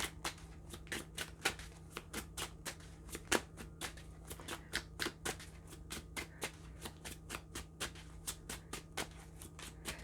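Tarot cards being shuffled by hand for a clarifier card, a steady run of crisp riffling snaps and slaps repeating throughout, close and fairly quiet over a constant low hum.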